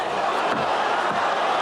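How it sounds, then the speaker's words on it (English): A Pride FC fight crowd fills the arena with a loud, continuous roar of cheering and howling, steady and dense throughout with no clear gaps. "Listen to that sound of the crowd."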